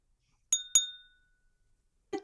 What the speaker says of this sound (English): taps on a plastic wine glass with a knife